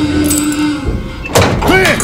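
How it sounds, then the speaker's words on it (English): A hatch door opens in the Call of Duty: Vanguard campaign, a heavy metallic thunk and scrape midway through, close and loud, with game voices and effects around it. "Let's get that hatch open."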